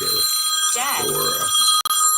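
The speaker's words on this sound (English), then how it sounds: "that's my phone ringing" A mobile phone rings with a bright, steady electronic tone that repeats through the whole stretch, fairly close and clear, pausing for a brief instant near the end.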